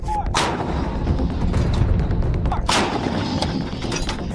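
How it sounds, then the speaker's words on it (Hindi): Howitzer artillery guns firing, two sharp heavy blasts about two seconds apart over a continuous loud rumbling din, with no voices. "लेकिन सेना की आर्टिलरी डिवीजन का सबसे बड़ा हथियार है हॉवित्जर तोप"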